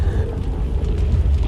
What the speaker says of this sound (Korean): 불화살로 폭발을 일으킵니다.